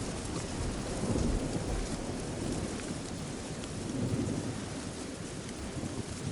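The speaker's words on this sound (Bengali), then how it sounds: "নেমে পড়ে প্রবল বৃষ্টি আর ঝড়।" Heavy rain pours in a cartoon storm while thunder rolls, a dense continuous roar with two swelling rumbles, no voices.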